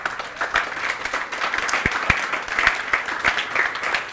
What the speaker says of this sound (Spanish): ¿Cuánto le dan un aplauso a Jesús?